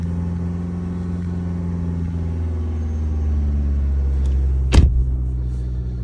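Car engine revved and held steady at about 2500 rpm during a battery test, a loud continuous rumble that stays even for several seconds, with one brief sharp knock near the end.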